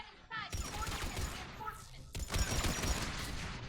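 Missiles or rockets firing in the Mass Effect 3 video game, a burst of loud explosive blasts opening a dense, continuous barrage of gunfire and detonations, with a second heavy volley midway, mixed with a voice speaking.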